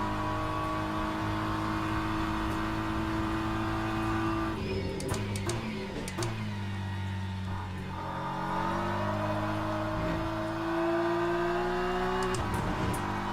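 A prototype race car engine in Le Mans Ultimate drones loudly and continuously, its pitch sliding down and climbing again through gear changes, with brief scrapes and bumps from the track.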